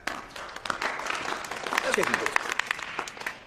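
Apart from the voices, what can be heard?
applause for Coach Brewer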